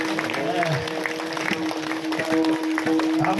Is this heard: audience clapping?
yes